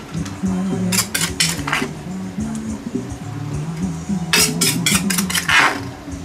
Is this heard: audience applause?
no